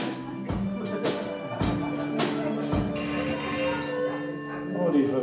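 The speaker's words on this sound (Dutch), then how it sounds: "Oh, die verdomde telefoon." A telephone bell rings loudly and close in rapid repeated bursts, then stops and leaves a lingering tone.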